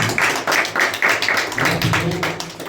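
A church congregation claps in praise of the Lord, a steady run of sharp handclaps at a quick, even beat with a low hum underneath.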